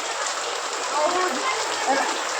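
Heavy rain pours down steadily close by, an even, dense hiss of drops that fills the whole moment without a break.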